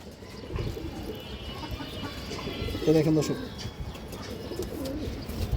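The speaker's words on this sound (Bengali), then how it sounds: "এই যে দেখেন পুতুলের মতো কবুতর" Pet pigeons, hens among them, coo close by in a soft, low warble that swells around the middle of the clip, while someone talks over the birds and a faint murmur of other birds continues in the background.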